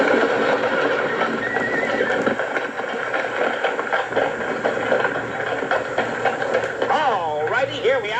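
Horses whinny and hooves clip-clop at a frontier-era livestock auction, several rising neighs standing out near the end over a steady crowd murmur and talk.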